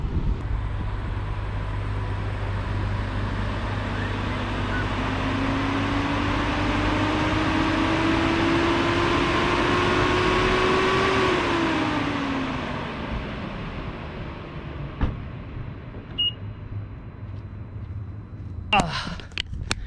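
A car engine in a grocery store parking lot in Las Vegas drives slowly while reparking, a steady low hum and rising then falling tone over about twelve seconds, ending with brief clatter.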